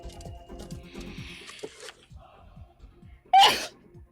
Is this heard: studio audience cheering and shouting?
no